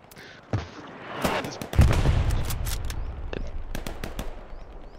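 Hell Let Loose battle with bursts of rifle and machine-gun fire, sharp cracks followed by a rolling boom and lingering rumble, some shots near and others distant, with a player talking over the gunfire.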